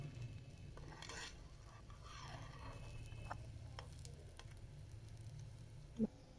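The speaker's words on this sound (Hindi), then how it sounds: "दूसरी साइड को पकाते हैं। घी लगाएंगे थोड़ा।" A corn roti cooks on a griddle with ghee spread on it, giving a soft, steady sizzle with light scraping and patting, faint and close, with one brief louder tap near the end.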